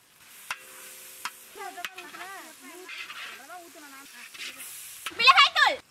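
Chopped tomatoes sizzle and hiss in a hot pan of green chillies, ginger-garlic paste and turmeric while being stirred, with scraping stir sounds and a louder burst near the end, under a voice talking, for a village-style whole chicken curry.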